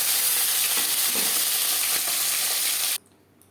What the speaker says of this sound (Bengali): একইভাবে ভেজে নেব।